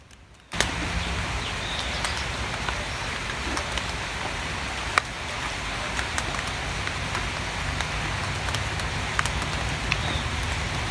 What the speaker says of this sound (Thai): พอตั้งสิกิน โอ้ย ฝนตกซะ